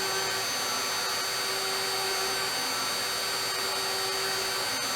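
A CNC router spins a 1/4-inch solid carbide upcut spiral bit at 25,000 RPM while cutting wood, giving a steady, even whirring roar with a faint constant tone and no speech.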